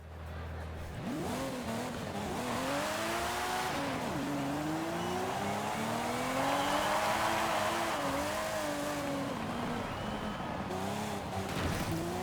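A drag car with an aero wing in Forza Horizon 5 sends a loud, continuous engine roar that climbs and falls through the gears, with rising revs and shifts and some tire noise, and no talk over it.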